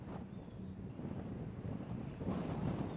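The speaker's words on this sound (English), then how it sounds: "Very windy, as I'm sure some people can hear at home at times." Steady wind buffets the microphone with a low rumbling roar at an outdoor girls' soccer game, fairly faint and continuous throughout.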